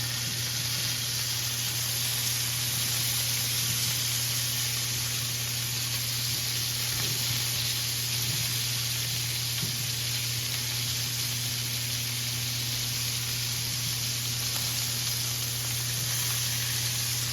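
Hand-cut pork chops fry in a pan with a constant, even hiss, steady and moderately faint for the whole stretch, over a low electrical hum.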